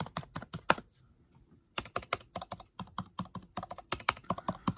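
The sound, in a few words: typing on 2020 MacBook Air Magic Keyboard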